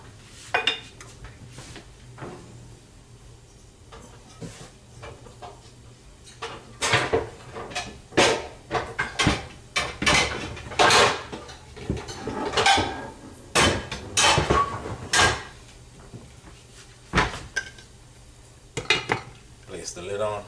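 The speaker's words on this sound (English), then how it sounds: "So we place the lid on this." Metal pot and lid clatter and clank in a kitchen while apple pie filling with cinnamon cooks, with quiet shuffling first and then a run of loud close knocks and rattles as the lid is set in place.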